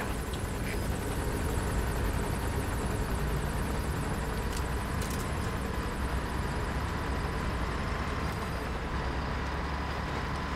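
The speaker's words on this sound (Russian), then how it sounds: "Вертушка мне совсем не нравится." Helicopter in the video game Metal Gear Solid 5: The Phantom Pain, a steady loud rotor and engine roar that fills the whole stretch without letup, heard close and alone.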